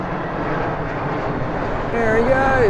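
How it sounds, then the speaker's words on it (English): A Jetstar jet airliner coming in to land makes a steady roar that grows louder toward the end, with someone speaking briefly over it. "we've got a jet coming into land here"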